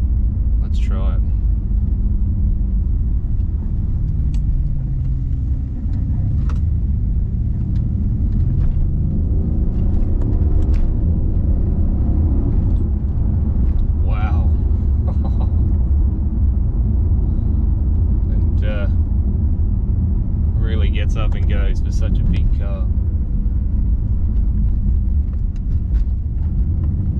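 A 2014 Mercedes-Benz S63 AMG drives through a corner, a loud low engine and road rumble heard from the cabin, steady throughout, with someone talking over it.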